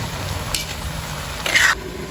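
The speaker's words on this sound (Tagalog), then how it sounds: "Haluin natin paminsan-minsan para magpantay yung luto ng ampalaya." Bitter gourd (ampalaya) being stirred as it sautés in a pan, a soft steady sizzle with brief scraping bursts of the utensil against the pan, close and alone without talk.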